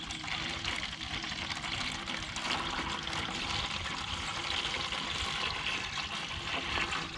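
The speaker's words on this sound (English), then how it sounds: "I just refill it with one of these watering cans" Water pours steadily from a watering can as chicken drinkers are refilled outdoors, a continuous close splashing trickle lasting several seconds with no talk.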